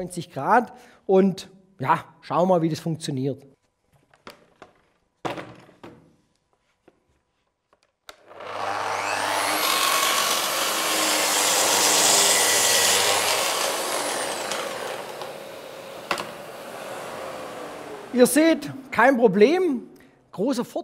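Festool HK 85 plunge saw spins up and cuts a board at 90 degrees, a loud whining buzz lasting several seconds before winding down, with talk before and after.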